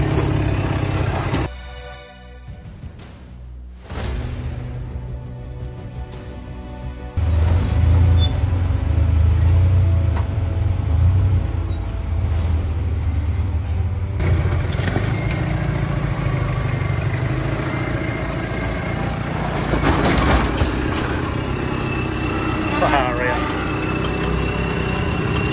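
Toyota Hilux trucks idle and rev before tackling a wet six-stage off-road descent and climb at Yalwal, with rumbling engines that step up in loudness partway through and a few high squeaks.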